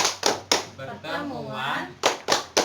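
A group of women at a family-empowerment meeting claps a rhythmic chant, with crisp synchronized claps in a short pattern around a spoken word from the leader, who speaks between the claps.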